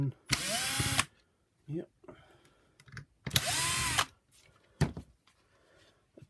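Powered screwdriver backing T10 torx screws out of the brush roll of a Shark Lift-Away NV602UK power nozzle, two loud whirring runs close up, each about a second long, with a brief spoken word and small handling clicks between them.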